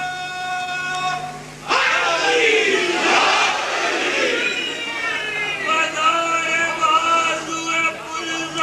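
A large crowd roars back a historic religious slogan invoking Ali: one voice calls out first, then a massive, loud wave of shouting voices swells and stays strong.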